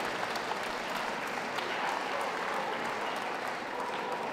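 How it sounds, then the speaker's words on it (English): Steady applause from spectators at a dog show as entrants leave the ring, an even, continuous wash of clapping at moderate distance with no talk over it. "Can we have a round of applause for those leaving the ring?"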